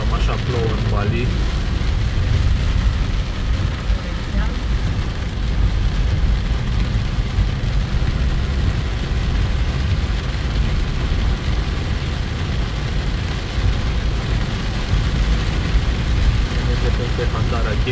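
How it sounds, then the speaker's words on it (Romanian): Heavy rain pours steadily at a waterfall in Bali, a dense, continuous broadband roar that stays loud and unbroken throughout with no clear voices on top. "Cam așa plouă în Bali."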